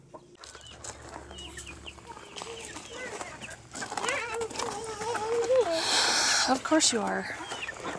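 Homestead chickens clucking and squawking close by throughout, growing busier and louder toward the end, while a person talks over them.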